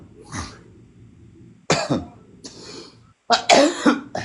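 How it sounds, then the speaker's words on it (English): A series of harsh coughs, one early and faint, then louder bursts in a quick cluster near the end, close to the microphone. "I ain't heard you cough the whole time I was there like that."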